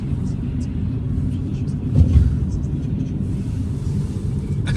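Trolleybus driving across a bridge, heard from on board as a steady low rumble that swells briefly partway through, with people talking over it.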